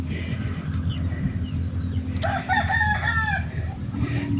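On a farm, a rooster lets out one clear crow of about a second, moderately close and loud above a steady background noise.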